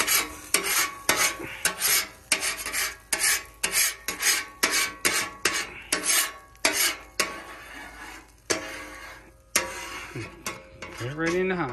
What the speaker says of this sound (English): Just take the scraper.